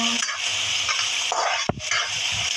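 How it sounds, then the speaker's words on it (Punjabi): Onions sizzle in hot oil in a pan for homemade kulcha filling, a loud steady frying hiss broken by a sharp scrape of stirring near the end. "ਲਓ ਜੀ ਪਿਆਜ਼ ਆਪਾਂ ਕਰ ਲਈਏ ਫਰਾਈ"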